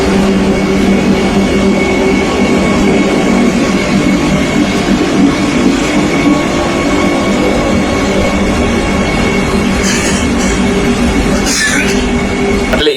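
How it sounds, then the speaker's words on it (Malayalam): A Vande Bharat train and a local train rumble loudly and continuously along the same track, slowing near a station, with a dense, roaring rolling noise and a few brief sharper clanks near the end. "വന്ദേ ഭാരതും ഒരു ലോക്കൽ ട്രെയിനും ഒരേ ട്രാക്കിൽ വന്നിട്ട് കൂട്ടി ഇടിച്ചു"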